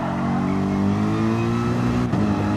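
Race car engine in a racing game at the Nurburgring GP circuit, a loud sustained drone that climbs steadily in pitch as revs build out of a corner, then briefly dips as the car shifts before carrying on.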